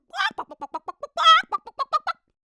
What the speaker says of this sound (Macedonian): Кокошка